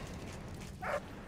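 A single short bark from a dog in the Valiant Hearts video game sounds near the end, over a low, steady game ambience.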